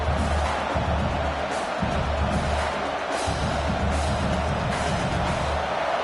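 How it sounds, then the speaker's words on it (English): A football stadium crowd roars in a broad, sustained wash of noise with a low rumbling undertone, steady and loud from start to finish. "listen to this crowd noise. This stadium is vibrating."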